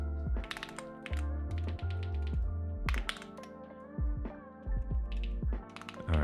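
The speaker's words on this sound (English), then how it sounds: "I cannot type. You know, I don't hate the keyboard, but I hate the switches." Fingers type on a computer keyboard fitted with light switches, producing bursts of quick, close clicks and clacks separated by short pauses, with heavier thocks scattered between them.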